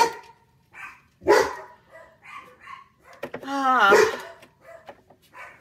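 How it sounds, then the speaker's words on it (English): Several dogs bark indoors in short, loud bursts with yips and a drawn-out whine, scattered across the moment with quiet gaps between. "I hope you guys don't mind all these dogs."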